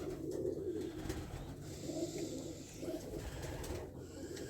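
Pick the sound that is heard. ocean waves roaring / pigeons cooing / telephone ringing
pigeons cooing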